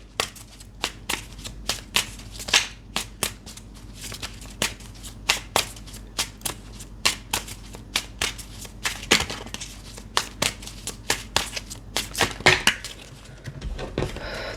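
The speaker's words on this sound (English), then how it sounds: "I'm gonna pull one card. Let me just shuffle a little bit more" A deck of tarot cards is shuffled with rapid, crisp riffling and slapping. The bursts are irregular, fairly close and moderately quiet, and there is no speech.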